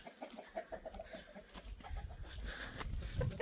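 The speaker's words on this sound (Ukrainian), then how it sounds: "Так, це там кури" Chickens cluck and murmur close by in a busy, irregular chatter, with some rustling and shuffling movement underneath.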